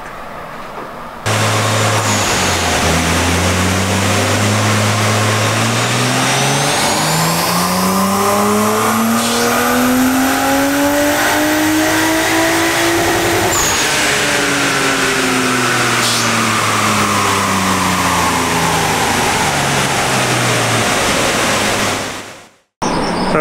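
A Nissan Skyline R34 is run hard on a dyno, its engine loud and close as it revs steadily upward in pitch for several seconds, then winds back down before cutting off abruptly.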